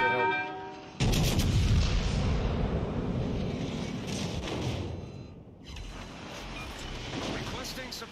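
Naval gunfire from warships in World of Warships Legends, with a sudden loud blast followed by a long rumbling roar. A second wave of booming fire builds toward the end, and someone talks through part of it.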